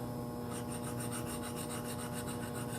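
A spindle gouge's bevel is honed with a sharpening card, giving a steady, close rubbing rasp that runs unbroken, with a brighter scraping texture coming in after the first half second.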